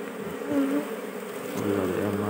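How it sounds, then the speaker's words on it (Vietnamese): A colony of honeybees, gathered by a beekeeper, buzzes in a dense, continuous drone with wavering hums close to the listener and no speech over it. "Gọi là một đàn ong chứ."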